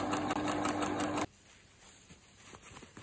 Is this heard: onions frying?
no